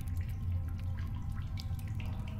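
Water trickling and dripping at a water source inside a dank cave in the Solus Project video game, small irregular drips over a steady low rumbling ambience, close and fairly quiet.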